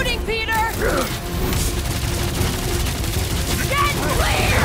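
Gunfire in the Guardians of the Galaxy video game on PS5, a dense continuous barrage of shots and booms amid combat noise, with character voices calling out over it.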